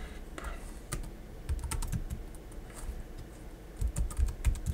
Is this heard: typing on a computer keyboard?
yes